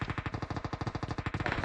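Rapid automatic gunfire in a video game, roughly fifteen sharp shots in a fast, even burst lasting under two seconds, loud and close.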